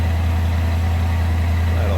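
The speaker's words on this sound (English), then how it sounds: "It's on high idle because it did start cold." A 1964 Chevrolet El Camino engine holding a high idle after a cold start, a loud, steady, even rumble heard up close with no change in pace.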